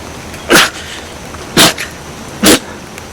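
A man's sneeze attack: three sharp, loud sneezes spaced about a second apart, close to the listener against a quiet background.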